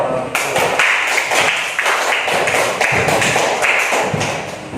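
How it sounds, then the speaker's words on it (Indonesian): A class applauds together, a dense run of many hands clapping at close range that holds steady for several seconds, with no talking over it. "Kita beri tepuk tangan dulu."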